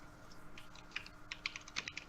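Typing on a computer keyboard during a tabletop role-playing session: quiet, close keystrokes in a quick irregular patter, sparse at first and then a denser burst, over low room hum.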